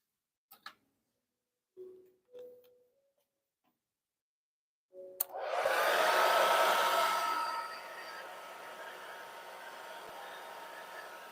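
A Revlon hair dryer switches on after a few clicks, blowing a loud, steady rushing hum across pour paint on a canvas, then dropping to a lower, quieter setting that continues to the end.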